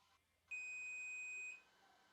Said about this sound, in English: It's a loud beep.